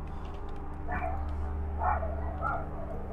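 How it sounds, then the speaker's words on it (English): A dog indoors gives a few short yips and barks, moderately faint over a steady low hum, with soft talking in the background. "she's probably barking at one of the local dogs"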